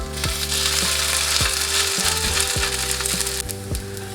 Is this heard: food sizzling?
yes